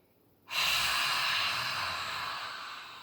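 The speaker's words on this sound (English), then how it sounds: "Take a deep breath in." A single deep, breathy inhale during a yoga session for lung health, starting abruptly and holding as a soft, close hiss that slowly tapers over a few seconds.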